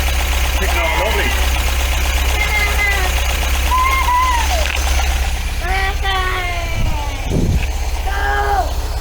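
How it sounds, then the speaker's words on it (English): A classic MGB engine idles steadily on all four cylinders after a head gasket replacement, with a constant low rumble throughout and people talking and calling out over it. "it's running, and it's running on 4 cylinders"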